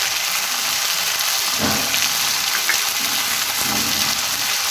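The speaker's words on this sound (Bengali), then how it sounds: "এবারে ভালো করে নাড়িয়ে নেব। মশলাটা ভালো করে" Ginger, garlic and chili paste frying with chicken gives a steady, dense sizzle with a few soft stirring scrapes, close and even throughout with no one speaking.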